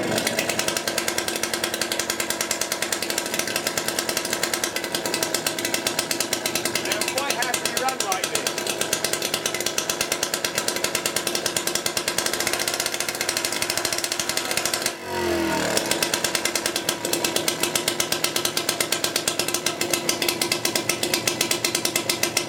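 A British Seagull outboard motor runs close and loud, a steady raw rattling two-stroke clatter that never lets up, with a brief dip in the middle.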